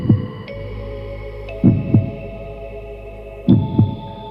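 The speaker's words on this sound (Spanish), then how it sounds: "escuchando los latidos de su corazón" Slow, steady heartbeat with paired low thumps repeating about every two seconds over a constant low hum, alone and without voices.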